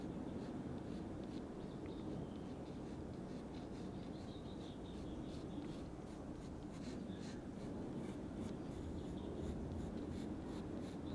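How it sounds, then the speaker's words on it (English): Pen or pencil drawing the petals of a Varahi yantra on paper, a soft, steady scratching and rubbing of the tip across the sheet that continues throughout at low level, close by with no speech. "So we can actually draw in the petals"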